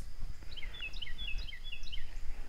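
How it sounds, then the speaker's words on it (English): Faint, high chirping bird calls repeat in short bursts over a low, steady outdoor rumble. "I hear the birds singing this morning."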